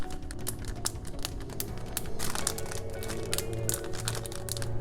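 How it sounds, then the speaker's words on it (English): A plastic freezer bag of steamed garden eggs is zipped shut and pressed flat, giving a run of close crinkling, ticking clicks of the zipper track and rustling plastic over a low background hum. "once you have it here, you just zip it up"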